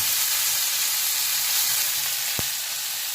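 Fish fries in a pan with fresh garlic, giving a steady, dense sizzle with no pauses. A single soft knock is heard near the end, and no one speaks.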